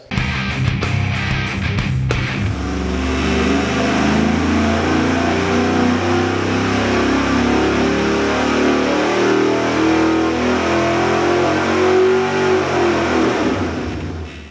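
A Small Block Chevy crate engine runs on a dyno during break-in testing: a few sharp revs, then a loud, steady roar that swells and eases for over ten seconds before dropping off at the end.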